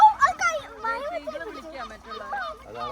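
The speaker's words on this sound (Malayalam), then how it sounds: "അവിടെ താറാവ് വഴക്കൂടുവാണോ" Harsh, honking quacks from several ducks overlap in a noisy, agitated exchange, close by, with children's voices faintly in the background.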